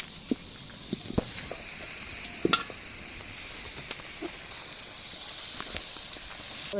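A kadai sits on the stove at a village picnic cooking chicken curry. Close and steady, the pan sizzles and hisses, broken by occasional sharp ticks and scrapes of a utensil.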